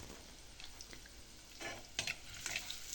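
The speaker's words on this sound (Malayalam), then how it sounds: "അപ്പോൾ അതൊക്കെ ഒന്ന് ഇളക്കി കൊടുക്കട്ടെ" Food being stirred in a clay pot with a coconut-shell ladle, heard as a soft, low-level sizzle under faint scraping strokes that grow slightly louder toward the end.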